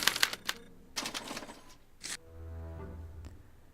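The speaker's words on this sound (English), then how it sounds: "As the responses are recorded, they're relayed to this special typewriter, which prints out a punch card that represents the subject's mind map." A special typewriter in the Back to the Future video game clatters as it prints a punch card, with sharp mechanical strikes and clicks, a short whirring hum, then a final clack, fairly close and with no voices.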